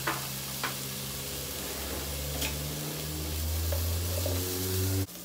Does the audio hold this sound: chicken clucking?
no